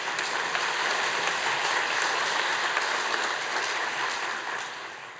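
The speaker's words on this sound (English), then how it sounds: "So big applause to Jim." Sustained applause from a conference audience at a welcome session, steady dense clapping throughout that fades slightly toward the end.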